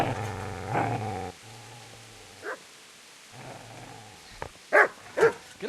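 A dog in the medieval role-playing game Kingdom Come Deliverance growls low and steadily, then lets out a few sharp barks near the end, close and fairly loud.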